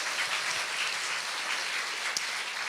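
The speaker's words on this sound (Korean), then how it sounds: "한 번 더 박수로 좀 격려해 주시면 또." An audience claps for an eleventh-grade student's presentation at a school academic festival. The applause is steady and moderately loud, continues throughout, and has no speech over it.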